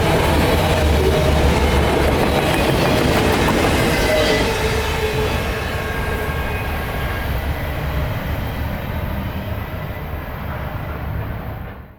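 Freight train I-154 rolls steadily past at close range in winter in Adairville, northern Georgia, a loud continuous rumble of wheels and railcars with clickety-clack, easing slightly toward the end.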